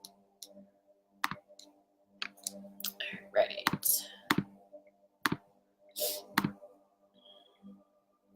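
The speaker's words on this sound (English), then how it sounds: "if you hear me like clicking weird buttons, that's what I'm doing" Sharp, scattered clicks of computer buttons and keys, irregular and close, mixed with brief quiet speech.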